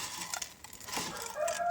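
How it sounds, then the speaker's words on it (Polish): A rooster crows through a fairly quiet background, with a rising, drawn-out call near the end and brief clucking sounds before it. "Jeszcze kury pieją"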